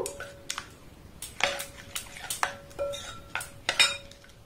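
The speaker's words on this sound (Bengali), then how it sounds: "আবার এটাকে আমি আর একটু ভালোভাবে মিক্সড করে নেব" Batter with a little baking powder is mixed in a bowl with a utensil, giving a series of distinct sharp clinks and scrapes against the dish at an uneven rhythm, close and fairly quiet, with no talking.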